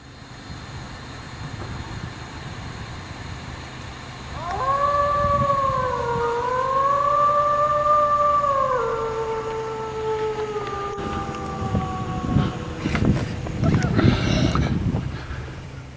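A long, drawn-out wailing howl, attributed to Bigfoot, rises and wavers for several seconds before sliding down and fading, followed by a few rough, noisy bursts.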